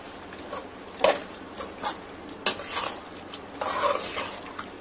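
Chicken being stirred into biryani gravy in a pan, with a few distinct scraping and clinking strokes of a spoon against the pan, close and moderately loud, no talking.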